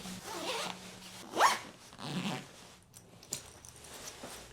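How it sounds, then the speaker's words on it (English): A zipper on a packing cube full of shirts is pulled closed in a few quick, rasping strokes, close by, with short pauses between the pulls. "Then I can just zip this whole thing up."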